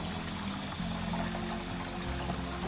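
Water runs steadily into a garden sprayer tank, a continuous gushing hiss with a low pump-like hum beneath, fairly faint and unbroken for a few seconds.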